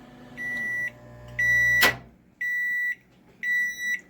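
A microwave oven runs while its control beeps sound in four separate sustained tones, with a short burst of noise between the second and third, over a low hum.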